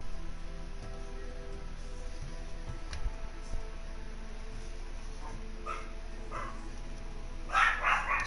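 Dogs bark faintly in a few brief bursts near the end, set against a steady background hum from a GTA game session.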